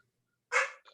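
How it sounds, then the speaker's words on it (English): A single sharp dog bark rings out close by from near silence, followed by a brief softer second yelp. "Sorry, it's my dog."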